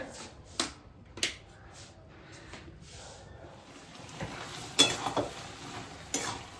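Vegetables cook quietly in a pan with a faint sizzle, broken by sharp scrapes and clinks as they are stirred at irregular intervals.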